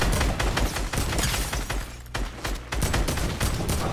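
Rapid automatic gunfire from a weapon in the Fortnite video game, a dense fast-firing burst that pauses briefly and resumes, loud and continuous with no talk over it.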